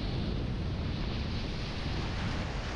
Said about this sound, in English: there's waves on the North Shore